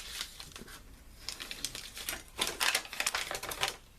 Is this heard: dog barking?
no